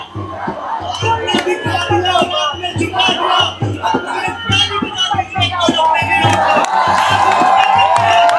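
A large political rally crowd cheers, whoops and claps rhythmically in loud, dense bursts, with shouting voices mixed into the roar.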